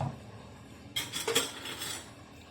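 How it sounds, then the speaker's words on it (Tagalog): A boy washing plates and spoons, the clatter of cutlery against dishes starting abruptly and continuing in a quick, close jumble of clinks and scrapes, with no talking. "Siya po ay naghuhugas na po ng mga plato, kutsara."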